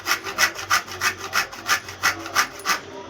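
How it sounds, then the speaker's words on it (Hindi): Coconut grated by hand on a metal grater for flour-and-coconut laddoos, a steady rhythmic rasping of about ten close, even scrapes with no voices. "बहुत अच्छे से इसको इसी से घिस लूँगी मैं, कद्दूकस कर लूँगी कुछ इस तरीके से"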